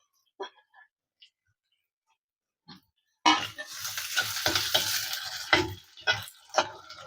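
Small onions and garlic sauté in a pan for a South Indian kara kuzhambu, a loud, steady sizzle kicking in after a few seconds of near silence, with a few stirring scrapes.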